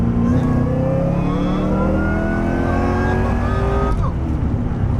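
A car engine revs hard through a third gear pull, its pitch climbing steadily for about four seconds before the throttle lifts, heard loud from inside the car with no talk over it.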